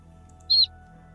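A single short, high bird chirp from the video game Slime Rancher, clear and isolated over a faint low background hum.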